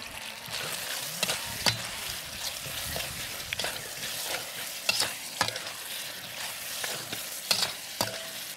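Chicken in tomato sauce cooks down in a pan, a steady bubbling sizzle under repeated scraping and stirring clatters of a utensil against the pan, fairly close and without talk.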